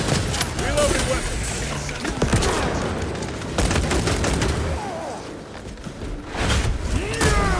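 Gunfire and booming weapons in the Warhammer 40K: Space Marine 2 video game, with dense rapid bursts and thuds layered under in-game voices and chatter throughout.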